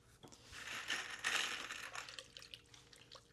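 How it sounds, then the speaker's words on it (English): Wet brass 7.62x39 rifle cases shaken and jostled, a soft metallic rattling and clinking with a damp swish, quiet and close. "Shake out as much water as I can."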